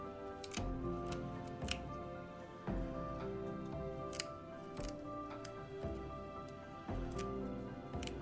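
Fresh rosemary sprigs are snapped apart by hand in a series of sharp, close cracks and crisp twig breaks, spaced about a second apart over a quiet background.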